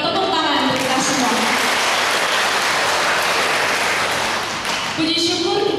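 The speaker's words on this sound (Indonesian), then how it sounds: "Mari kita beri tepuk tangan untuk kita semua." Seminar participants clap together in a room, with dense, sustained applause that fills most of the moment at close range, while a voice speaks briefly at the start and end.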